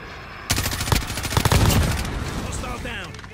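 Gunfire from a video game gun, a dense burst of rapid shots starting abruptly and continuing under battlefield noise, fairly loud and close.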